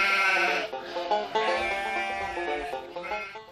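Goats bleat loudly and repeatedly in a Monty Hall game show simulation, several overlapping wavering cries following one another closely with no talk.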